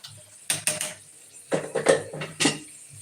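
Plates and dishes are set down in a few separate clusters of sharp clinks and clatters, close and fairly loud, with quiet gaps between them.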